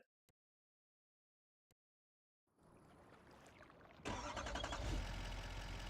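A truck engine in Farming Simulator 25 cranks over after a few faint clicks, catches and settles into a steady idle, then jumps to a loud, full rumble that runs to the end, with no one talking.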